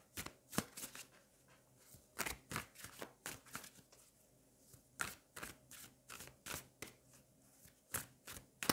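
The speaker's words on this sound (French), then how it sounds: "on va aller prendre une carte du Victoria Frances" Tarot cards from the Victoria Frances deck being shuffled and handled, a series of crisp riffling slaps in quick bursts with short pauses between, very quiet and close, no talking.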